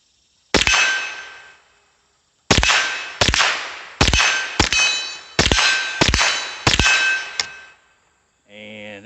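Rifle rounds from a Winchester Wildcat .22 LR strike a large swinging steel target, giving about nine sharp, ringing metallic clangs in an irregular volley, each decaying before the next. No gunshot report is evident and nobody talks.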